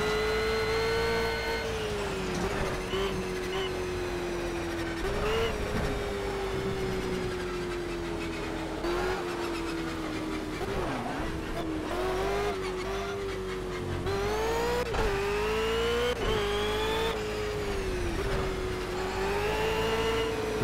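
Race car engine in the Project Cars racing game, held loud and steady throughout, its pitch rising and dipping as the driver lifts off, brakes and accelerates again, with faint tire squeal mixed in.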